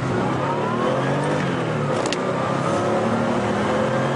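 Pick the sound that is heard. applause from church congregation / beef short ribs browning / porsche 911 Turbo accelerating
porsche 911 Turbo accelerating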